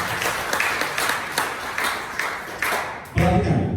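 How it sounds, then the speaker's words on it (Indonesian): A congregation claps for Jesus during an Indonesian evangelical sermon, a scattered, uneven run of hand claps that thins out before a sudden louder thump near the end. "Tepuk tangan bagi Yesus."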